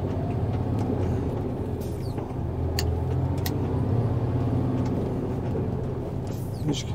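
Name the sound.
truck engine while driver shifts into third gear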